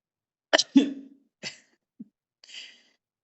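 Several separate coughs, a quick double cough followed by two shorter ones and a final breathy one, close and fairly loud with pauses between.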